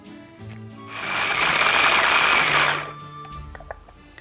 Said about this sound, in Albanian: në blender.